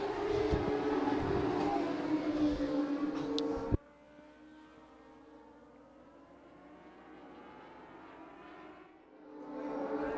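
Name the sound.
dwarf cars racing at a speedway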